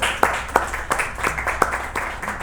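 Applause after a reading of a sad poem about a dark horse named Lucero, a steady patter of many hands clapping in a room for a couple of seconds.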